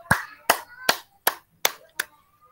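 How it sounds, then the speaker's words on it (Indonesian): A class gives applause: six sharp, evenly spaced claps ring out close by, each with a brief decay, in a steady rhythm like a single pair of hands. "Tepuk tangan."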